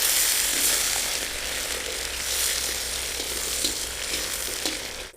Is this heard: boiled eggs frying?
yes